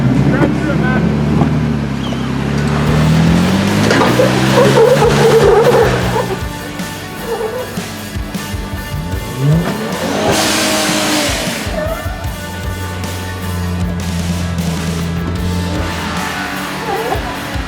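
Off-road vehicle engine climbing rocky trail obstacles on the Moab Rim trail, throttle surging and revving in waves, close and loud, with people talking over it.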